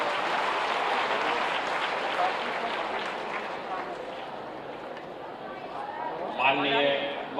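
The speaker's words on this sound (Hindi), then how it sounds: "तालियों से स्वागत करें।" An audience at a National Education Day event in Bihar applauds to welcome Finance Minister Vijay Kumar Chaudhary, a dense, sustained wash of clapping from a large hall crowd, with a voice briefly rising near the end.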